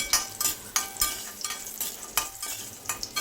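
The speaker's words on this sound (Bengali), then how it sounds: "তেল গরম হয়ে গেলে আমি এখানে দিয়ে দিচ্ছি প্রায় আট থেকে দশটা কলাইয়ের ডালের বড়ি" Lentil dumplings (bori) dropped one by one into hot mustard oil, with repeated bursts of crackling sizzle and light stirring scrapes in a pan, close and fairly loud, no talk.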